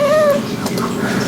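A pet cat gives a single short meow up close, a brief rising cry followed by faint room noise.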